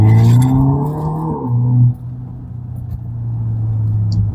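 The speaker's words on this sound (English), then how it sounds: "this is so far one of the best sounding 4-cylinder turbocharged engines I've ever encountered" A 2017 Mercedes-Benz SLC300 with a turbocharged 4-cylinder and 9-speed gearbox in Sport Plus mode revs loudly close by, its deep drone rising then dipping after a shift before building again, with no talking.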